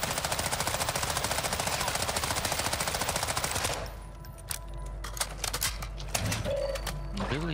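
Rapid turret machine-gun fire in Call of Duty Modern Warfare II, a loud, dense burst of evenly spaced shots that stops abruptly partway through, followed by scattered distant gunfire, clicks and game sounds.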